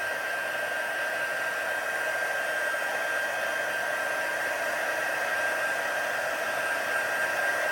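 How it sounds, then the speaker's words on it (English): Heat embossing tool blowing hot air onto a stamped card or envelope: a steady, close, loud whirring fan and air rush with a faint high whine, unbroken throughout. "An envelope actually will heat emboss a set a little bit quicker than your cardstock because it is thinner."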